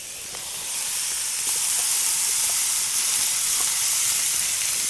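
Banana blossom hits a hot pan and starts sizzling, the frying hiss swelling and then holding steady with a few faint clinks.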